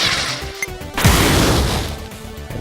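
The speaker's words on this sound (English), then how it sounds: "This is like an RPG kind of grenade," A loud RPG-style grenade blast from the video game Pineapple Smash Crew, a single booming burst that erupts suddenly and fades over a couple of seconds.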